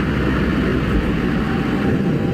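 A light aircraft's engine drones loud and steady in the cabin as the throttle is closed, forming a dense, unbroken roar with no clear drop in level over the short stretch.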